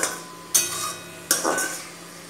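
A spatula strikes and scrapes a pan twice while masala cooks with a splash of water: two sharp clattering strokes with a brief sizzling tail after each, close by, with no talking.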